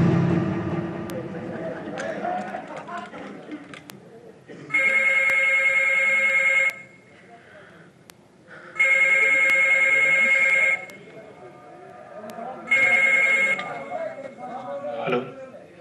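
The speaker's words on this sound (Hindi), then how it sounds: "सैयद साहब जल्दी आइए, जग्गू का फोन आ गया" A telephone rings for an incoming call in three long, steady electronic trills with pauses between them, loud and near, while people talk in the background.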